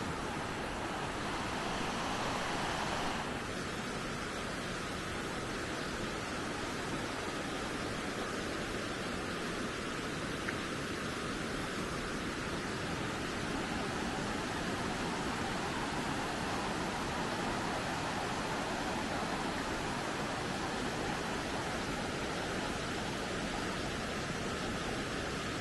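Steady, broad rushing water at Tapia beach on the river Tambre in Ames, Galicia, fills the whole clip as a continuous wash. It sounds close and unbroken, with some wind noise and no voices.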